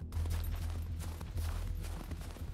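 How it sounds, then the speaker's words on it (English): Gunfire in the survival video game SCUM, a run of rapid, muffled shots rolling together from some distance, with no voices. "Whoa! Gunshot."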